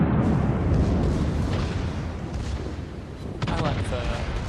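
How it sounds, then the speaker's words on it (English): Heavy gunfire booms from the Colorado's secondary guns and the Gneisenau's main guns in a World of Warships naval battle, with a dense, continuous low rumble of overlapping blasts and a sharper burst late on, under a speaking voice. "Secondaries on the Colorado, main guns on the Gneisenau. Both fire, both do fairly minimal damage."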